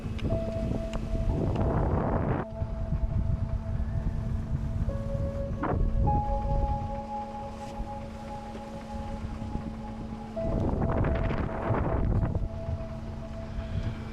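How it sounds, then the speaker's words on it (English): Strong wind blows over a sailboat with a double-reefed sail heading into open water, roaring as heavy buffeting in long gusts under steady rushing air, with faint tonal hums and no talking. "the wind's already getting a little stronger, and I just know it's going to get a lot stronger"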